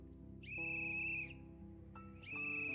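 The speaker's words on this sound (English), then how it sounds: "I can finally whistle." A video game character blowing a whistle: two long, clear, steady high whistle blasts over a soft musical backdrop, the second starting after a short pause.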